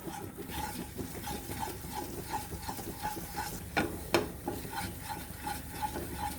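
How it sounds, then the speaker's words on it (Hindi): Flour and butter stirred and roasted in a pan for a bread lasagna, a steady scraping of the spoon with soft sizzling underneath, faint and close, with no voices. "हमें मैदा और बटर को जब तक सेकना है जब तक कि मैदा का कलर थोड़ा सा मतलब गोल्डनिश नहीं हो जाए"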